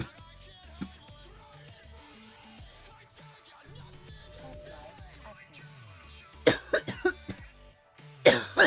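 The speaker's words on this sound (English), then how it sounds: "Don't mind the cough." Coughing from a man with a lingering post-COVID cough, several loud bursts clustered near the end after quieter background game sounds.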